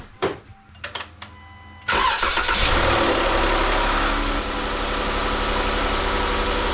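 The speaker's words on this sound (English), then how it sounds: "That's a good sounding engine right there." A few short clicks, then a Chrysler Pentastar engine, just after an oil change, cranks and catches with a loud burst before settling into a steady, rumbling idle.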